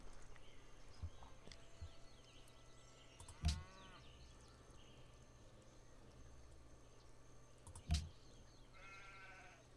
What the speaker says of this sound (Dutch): Als je denkt, hoor ik nou een schaap? Dat kan kloppen.